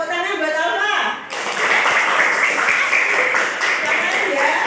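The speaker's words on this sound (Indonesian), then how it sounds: "Tepuk tangan buat Alfa." A class of students claps for a classmate after a teacher's voice; the applause starts abruptly and continues as an even, moderately loud patter to the end.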